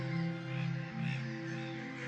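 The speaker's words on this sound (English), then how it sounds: "here's the makers of the raucous clamour you can hear, black-headed gulls" Black-headed gulls at a spring wetland marsh give a raucous, continuous clamour of harsh calls, a dense overlapping chorus close by with no talk.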